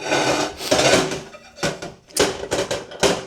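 Plates and dishes being sorted and stacked, a burst of clattering ceramic knocks and scrapes in uneven clusters, close by in a room.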